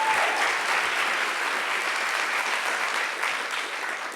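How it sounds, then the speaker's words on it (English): Sustained audience applause greeting a lecture guest, a steady, even roar of many hands clapping throughout with no gaps. "Please give a big round of applause for Jose Antonio Vargas."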